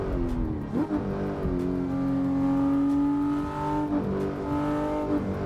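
A car engine in a driving video game revs repeatedly, rising and falling in pitch with gear-shift dips, loud and continuous with no talking.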